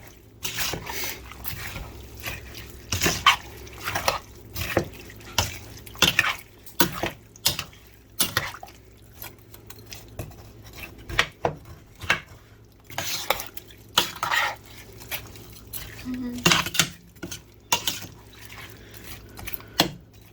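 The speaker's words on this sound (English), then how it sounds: "I'm just breaking up the cauliflower a little bit so it mixes in better" A spoon breaks up and stirs cauliflower with brown rice in a pot, producing a quick run of irregular scraping and clinking strokes against the metal, close and clear with brief wet squelches between them.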